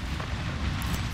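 A grenade goes off in Apex Legends, giving a brief, dense, roaring blast with rumbling debris that fills the short moment.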